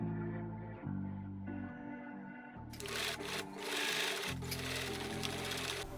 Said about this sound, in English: I sew and I'm sewing without including the seam allowance here